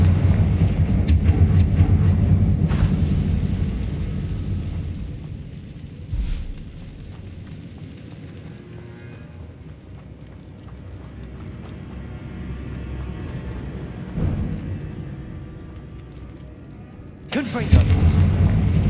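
Confringo fire-blast spells in the video game Hogwarts Legacy go off as loud, booming explosions. The heaviest bursts come at the start and again near the end, with a lower rumbling combat ambience in between.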